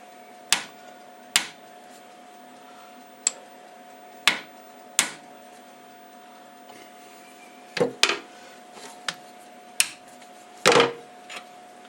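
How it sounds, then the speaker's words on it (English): A workpiece being tapped down into the vise of an Emco F1 CNC mill, with about a dozen sharp, close taps spaced irregularly over a steady low machine hum. "Tap it down."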